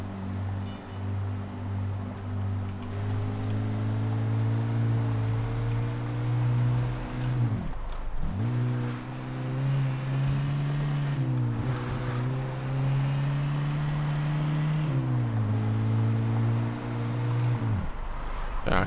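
A car engine drones steadily in the Mafia II video game, a loud low hum that dips briefly twice as if shifting gears, with no talking over it.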